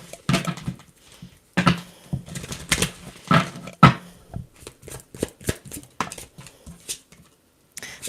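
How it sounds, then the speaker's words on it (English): A tarot card deck is shuffled by hand, giving a series of close, crisp riffles and soft slaps in irregular bursts with short pauses between them. "let's shuffle out this deck"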